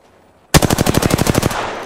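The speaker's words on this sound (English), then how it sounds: "Listen up, I'm getting shot at." After a moment of quiet, a rapid automatic burst of about a dozen evenly spaced shots rips out in the video game Apex Legends, loud and close, then tails off.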